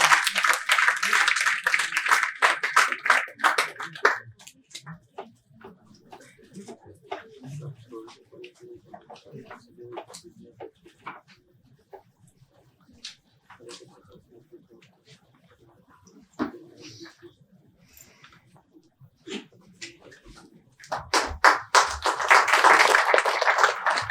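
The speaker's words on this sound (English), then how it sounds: "let us welcome this moment with a round of applause" An audience at an MoU signing ceremony bursts into loud applause that fades to scattered claps and quieter sounds, then swells again into a strong round of clapping near the end.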